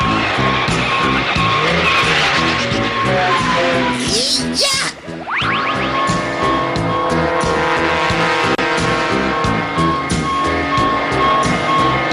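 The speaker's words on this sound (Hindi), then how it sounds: "अरे, लगता है कि पुलिस उस गाड़ी को फॉलो कर रही है।" A cartoon car chase with police in pursuit: engines roar continuously with tires squealing and skidding midway, a brief dip, then sirens and engine noise swelling again, loud and close throughout.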